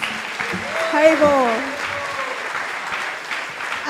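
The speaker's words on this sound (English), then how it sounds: "Let's have a new Jagannath Puri round of applause for 2 speakers" Audience applause rising and fading at an ISKCON temple gathering, the New Jagannath Puri temple in Phoenix, with a sustained clapping wash over several seconds while a voice chants and speaks over it.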